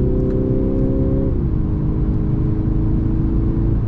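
A Mercedes E 220 d diesel from the 2024 E-Class in sport mode accelerates onto a highway, its engine note droning steadily, dipping in pitch as it shifts and climbing again, heard from inside the cabin.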